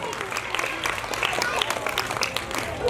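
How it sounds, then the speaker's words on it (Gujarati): Audience at a primary school event in a village clapping for a donor, a dense spread of handclaps lasting the whole moment, moderately loud and mixed with crowd noise and a voice speaking over it. "રામસિંહભાઈ માટે જોરદાર તાળીઓ જાય"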